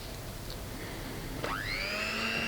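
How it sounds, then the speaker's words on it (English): A steady electric whisk on its lowest speed beats egg yolk for mayonnaise, a continuous whirring motor hum that climbs slightly in pitch partway through and holds there. "First, whisk egg yolk using the lowest speed of the electric whisk."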